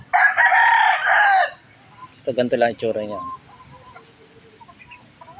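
A gamecock-bloodline rooster crows, a loud, drawn-out call in the opening second and a half, then gives a few shorter clucking notes. Someone talks around the bird's calls.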